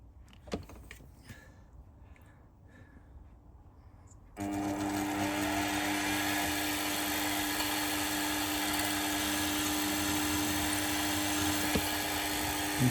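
A drill bites through aluminium on a model engine part, kicking in suddenly after quiet handling noises and then holding a loud, steady high whine that runs to the end.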